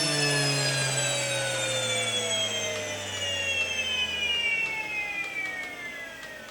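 A home wheat grain mill winds down after grinding, its high whine slowly falling in pitch like a jet engine spooling down over several seconds. The steady sound fades gradually, with faint clicks near the end.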